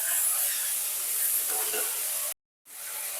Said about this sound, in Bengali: টমেটো আর আদা ভালো করে ভেজে নিয়েছি